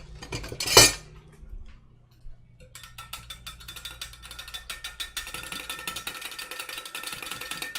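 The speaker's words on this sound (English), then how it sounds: "I'm gonna grab a whisk and whisk this all together." A whisk beats maple mustard sauce in a bowl, with rapid metallic clinking and scraping that grows steady after a brief louder knock at the start.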